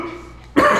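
One person coughs in a single harsh, close burst after a stretch of low background hum, loud and brief with nothing else around it.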